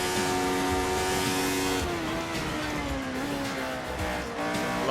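Turbocharged race car engine in an Alternative F1 game set at the 1984 Australian Grand Prix, a loud steady whine that drops in pitch as it shifts down, with tire squeal, and no voices.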